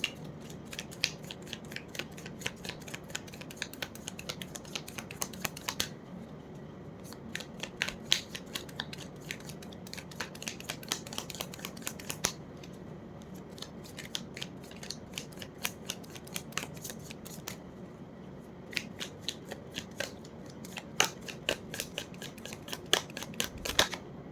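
Tarot cards shuffled and drawn during a reading, heard as a dense run of quick papery flicks and snaps that keep going steadily throughout, close and fairly quiet, with no voices.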